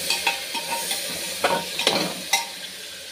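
Chopped onion and tomato fry in oil in a pan for a spiced rice dish, a steady sizzle broken by a few scraping stirs of a spoon, close and alone without talk.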